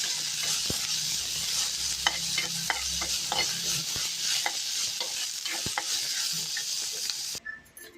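Ingredients frying in ghee for ghee rice while being stirred, a steady soft sizzle broken by repeated close scrapes and clicks of a spoon against the pan, with no talking.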